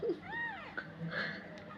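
A cat in labour giving birth lets out a clear, close meow with a rising and falling pitch, followed by softer faint rustling in a quiet room.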